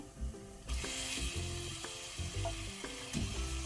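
A kilogram of mutton drops into hot oil with frying ginger and garlic pieces, and a loud, close sizzle breaks out at once and holds steady, with clanks and scrapes of stirring over it.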